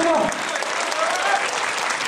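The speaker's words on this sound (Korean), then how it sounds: "예, 힘찬 박수로 환영해 주시기 바랍니다." Comrades from across the country are welcomed with loud, continuous applause filling a large hall at a national activists' rally, with a voice addressing the crowd at the start.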